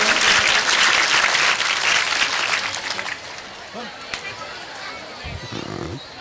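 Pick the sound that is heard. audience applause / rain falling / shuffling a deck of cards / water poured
audience applause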